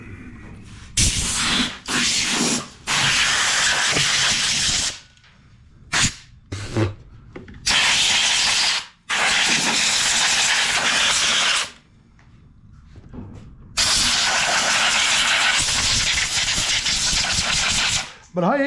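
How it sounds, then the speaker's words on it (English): Compressed air from a hose blasts debris and acorns out of a Toro Recycler push mower deck, a series of loud, close, roaring bursts of several seconds each, separated by short quiet gaps. "Let's grab the air hose and just blow it all out."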